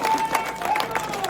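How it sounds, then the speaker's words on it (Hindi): Crowd at a political rally in India clapping to welcome a guest, a brief burst of dense applause with some cheering mixed in. "सब तैयार तो जोरदार तालियों से मुकेश जी का स्वागत करो।"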